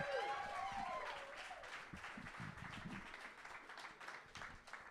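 Applause rolls through the room at a Canadian poetry slam for poet Johnny McRae, steady, dense clapping at moderate loudness with a few cheers rising early on, then easing slightly.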